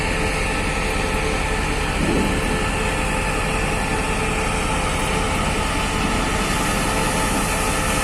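Diesel locomotive of a new Thai railway test train on a Bangkok to Chiang Mai run, with a steady, fairly quiet engine rumble and broad rolling noise, continuous and close throughout.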